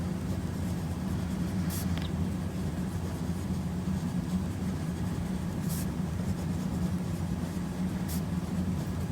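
A medium nib Pelikan fountain pen scratches across paper while swatching ink, a faint continuous scratching over a steady low background hum, with a few brief brighter scrapes.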